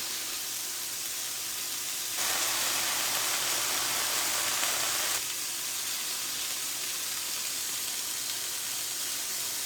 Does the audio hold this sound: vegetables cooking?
yes